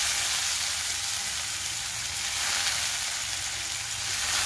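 Onions sizzle steadily in hot oil, a dense crackling hiss heard up close without any talking.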